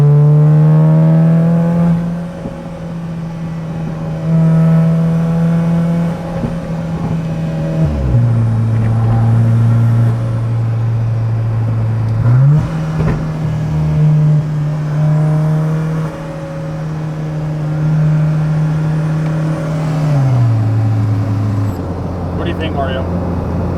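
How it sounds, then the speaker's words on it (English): A Toyota Supra's turbocharged engine drones loudly from inside the car while driving, holding a low steady hum that steps down and back up between gears, with people talking over it. "the turbo sounds nice"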